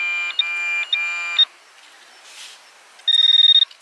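A handheld pinpointer metal detector beeping while searching a beach, sounding in short bursts and then a rapid run of pulsing tones, loud and close, with quieter gaps between.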